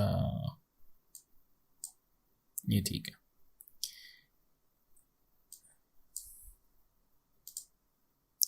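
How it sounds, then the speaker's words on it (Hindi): A computer mouse clicks during Photoshop brush editing, a handful of sharp, isolated clicks spread across the span, with a brief spoken phrase near the start. "इसके बाद राइट क्लिक करना है"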